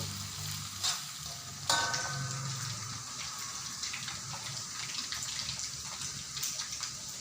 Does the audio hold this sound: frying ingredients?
yes